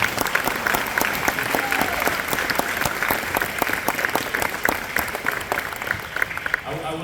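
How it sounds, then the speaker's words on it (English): An awards-night crowd claps for high school football honorees, including an all-state running back, with sharp, dense applause that runs steadily throughout and fades a little at the close. "Go ahead and give these guys a round of applause"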